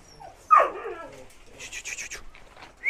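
Taihang dog puppies in a litter of ten make a loud close yelp followed by softer whimpers and a run of quick high yips, with quiet stretches in between.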